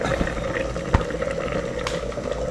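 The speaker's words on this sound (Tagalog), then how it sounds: "Tingnan natin kumukulo." A pot of coconut milk with vinegar bubbling and simmering steadily at close range, with a soft continuous burble and one sharp click partway through.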